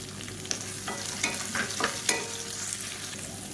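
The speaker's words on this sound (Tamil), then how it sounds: "மீடியம் சைஸாக ரெண்டு பெரிய வெங்காயம் நீளமாக நறு நறுக்குனதை சேர்த்துக்கலாம்" Two large onions, sliced lengthwise, sizzle steadily in a pan while a spoon scrapes and stirs them in a few distinct strokes, close and moderately loud, with no talking.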